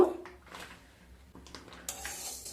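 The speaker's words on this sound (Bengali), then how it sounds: "প্রথমে কড়াইতে বিউলির ডাল দিয়ে দেব" Dry urad dal grains tipped into a wok, a short scattered rattle and clatter of lentils against metal, fairly faint, with no one talking over it.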